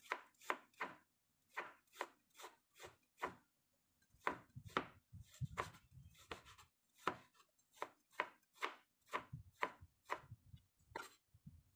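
A knife slices fresh ginger on a cutting board for pickled ginger, making a steady run of crisp, close chopping knocks, about two per second, with brief pauses and no voices.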